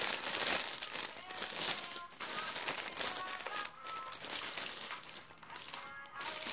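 Crinkly plastic packaging being handled and pulled open, loud close crackling and crumpling in irregular bursts throughout.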